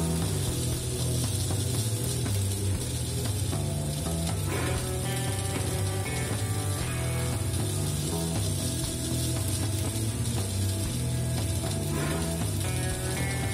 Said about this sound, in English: So when you press direction button, motor starts rotating in one direction